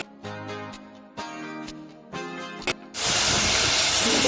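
Spoken words come first, then a sudden loud hiss erupts and holds steady as mustard seeds and cumin hit hot oil and sizzle up close.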